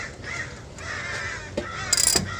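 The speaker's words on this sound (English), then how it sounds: "Oh, the crows." Crows caw repeatedly outdoors beside a garage where a 1968 Dodge Charger barn find is being worked on, harsh calls at moderate distance over steady background noise, with a sharper burst near the end.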